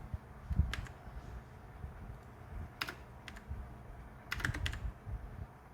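Computer keyboard keys tapped in short irregular bursts while a simple Python program is being written, a few quick clusters of clicks separated by pauses, fairly close and moderately quiet over a low background hum.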